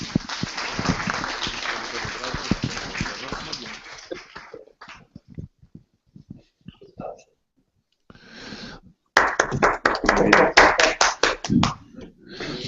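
Audience applause after a debate presentation, a sustained burst of clapping that fades into scattered claps and near silence, then swells again into loud, dense clapping from a full room.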